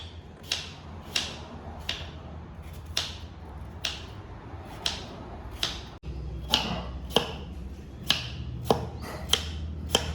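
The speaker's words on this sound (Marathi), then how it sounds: "फायनली आपले 3 नारळ आहेत ते कापून झालेले आहेत." Sharp, repeated chopping strikes as whole coconuts are hacked open for Konkani solkadhi, about a dozen crisp blows at an irregular, fairly steady pace, close and clear with no talk.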